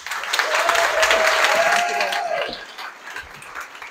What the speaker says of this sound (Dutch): Graag een warm applaus voor Bianca.